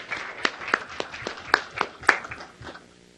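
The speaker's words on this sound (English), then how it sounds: "I think you all should give yourselves a round of applause" Sparse, scattered hand claps from a small audience at an online education summit welcome session, a handful of distinct claps spread over a few seconds rather than full applause.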